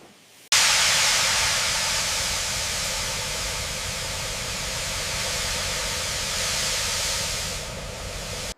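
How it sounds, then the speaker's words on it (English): Pressurized steam hisses steadily inside a massive retort chamber sterilizing sealed cans of rambutan in a canning factory, a loud, continuous broadband rush that begins abruptly and holds for several seconds with no talk. "This massive retort chamber utilizes pressurized steam to sterilize the sealed cans."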